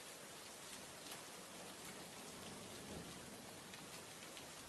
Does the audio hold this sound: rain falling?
yes